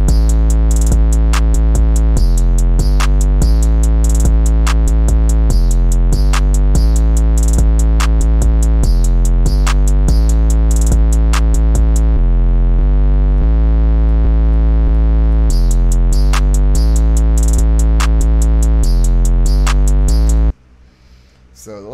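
A loud rage-style drum beat pounds with deep booming 808 bass notes and crisp rapid hi-hats, the pattern repeating before briefly dropping out near the end.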